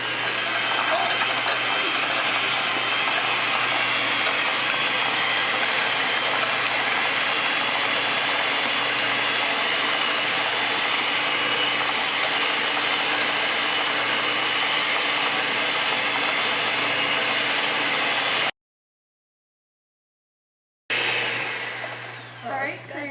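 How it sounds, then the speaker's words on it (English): An electric mixer beats softened butter cookie dough with a steady, loud whirring motor drone that runs continuously, cuts out briefly near the end and then resumes, with no voices. "And then we're going to take our electric mixer and mix it all up."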